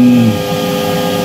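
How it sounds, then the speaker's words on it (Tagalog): The blower fan of a water cooler runs on its own from a low-amperage adapter, a steady close-up electric whir with a brief higher tone at the start. "yung blower niya, mag-isa lang siya,"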